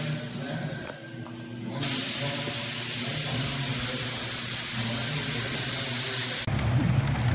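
Spray gun laying a fourth coat of paint onto a 1963 Shasta Compact trailer, a steady loud hiss running unbroken for several seconds after a short lead-in, then cutting off near the end.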